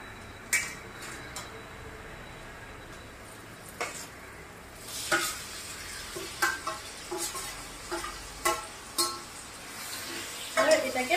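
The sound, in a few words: chicken added to fried onions, sizzling in pan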